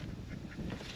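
A duck calls near an above ground pool, giving a quick honking quack over steady low background noise with no one talking.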